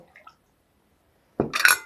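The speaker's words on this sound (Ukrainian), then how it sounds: "в другу висипаю апельсин і заливаю гарячою водою 100 мл води сюди і сюди." Hot water, about 100 ml, splashes into a bowl of orange jelly powder in a short burst after a faint clink, close and fairly loud.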